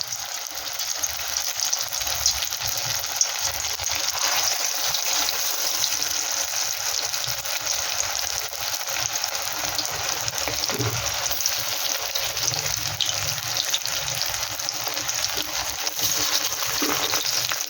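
Steady, hissing sizzle of stuffed pointed gourd frying in a pan, continuous and close, with occasional soft clinks.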